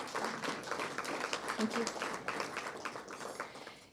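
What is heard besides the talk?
audience applause for a presenter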